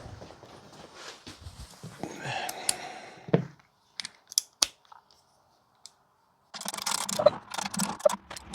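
Bolts being fitted and tightened on a Big Block Chevy 454 engine build for an Argo, with sparse metallic clicks, ratchet-like ticks and handling knocks close by, separated by near silence and ending in a busier clatter.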